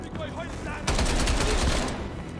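Automatic gunfire from Black Ops Cold War breaks out after about a second of voices, then runs as a loud, dense, sustained burst of rapid shots.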